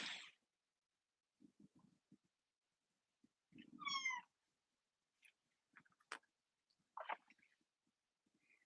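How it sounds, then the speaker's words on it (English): A cat meows during a quiet indoor movement and meditation session, giving a few separate calls over several seconds, one clear harmonic meow standing out amid soft rustles, ticks and small thumps in a still room. "you might have an interruption like a cat who wants your attention"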